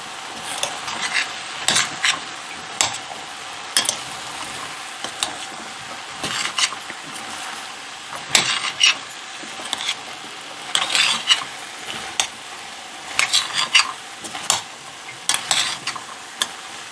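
A spoon scrapes and clinks rhythmically against a pan while chickpea curry ingredients and chili powder are stirred, with a soft frying sizzle underneath and no talking.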